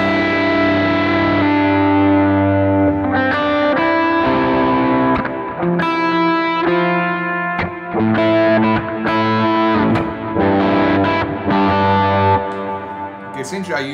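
Distorted electric guitar with chorus and effects picking three-note triad shapes over changing chords (A minor, G) in a worship style, ringing sustained notes with no talking.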